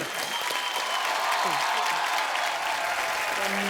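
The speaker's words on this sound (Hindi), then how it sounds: "जोरदार तालियां रितेश भाई के लिए" A studio audience at a comedy talk show claps loudly and continuously for a film actor guest, a dense, even wall of applause that fills the whole moment.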